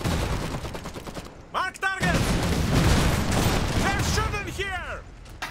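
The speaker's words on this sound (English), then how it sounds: "They're shooting here." Gunfire from the real-time strategy video game Iron Harvest, a dense stretch of rapid shots and mechanical clatter. A voice talks over it throughout.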